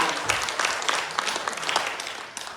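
Applause from a congregation during a women's church worship service, a steady dense clapping that fills the whole stretch at moderate loudness with no talk over it.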